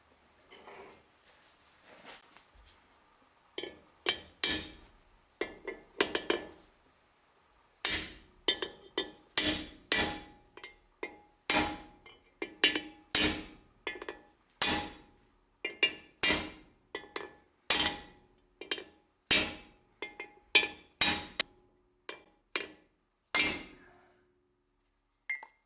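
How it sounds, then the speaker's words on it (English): Close, sharp metallic hammer taps drive new bearing races into a busted rear differential, struck in quick bursts of several blows with short pauses, steady and regular through most of the stretch, with no talking. "We'll just tap them in there till it seats."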